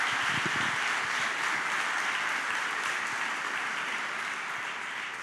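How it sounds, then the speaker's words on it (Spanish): A church congregation applauds the Lord during a pastor's sermon at a harvest firstfruits celebration, a steady wash of many hands clapping from a sizable crowd, sustained and fairly even, fading slightly toward the end. "Den un aplauso al Señor por eso"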